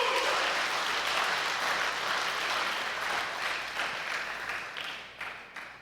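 A church congregation applauding during a Sunday morning service, sustained clapping from many hands that gradually thins and tapers off.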